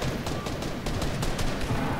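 Fortnite gunfire in a dense firefight, rapid overlapping shots under a constant wash of battle noise, loud and continuous.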